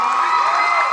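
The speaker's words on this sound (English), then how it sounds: "Keep clapping!" An audience at a church youth conference session claps and cheers in a loud, dense, continuous roar of applause and shouting.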